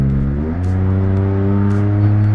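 A tuned Korean light car revs its engine loudly and close by, a steady, buzzing exhaust note that rises in pitch and holds strong throughout, with no voices.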